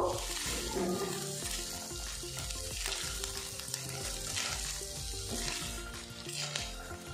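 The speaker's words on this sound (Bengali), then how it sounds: "নুডলসগুলো দিয়ে আমি এগুলো নাড়াচাড়া করে ফ্রাই করে নেব।" Rice noodles stir-fried in a hot pan give a steady, dense sizzle broken by scraping stirring strokes, with soft tonal music running faintly underneath.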